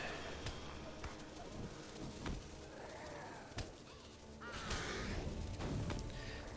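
Crows caw in the Lord of the Rings Online video game, several faint caws scattered over a soft ambient game soundscape with occasional clicks and a low background hum.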